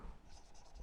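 A brief, faint scratch of a pen writing notes during a biology lesson on the parathyroid gland, close and quiet.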